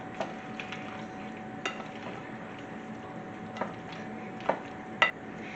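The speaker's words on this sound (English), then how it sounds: "Stir that around." Pasta salad being stirred in a bowl after a splash of vinaigrette goes in, giving soft scraping and sloshing with a few sharp utensil clinks against the bowl, close by and without talk.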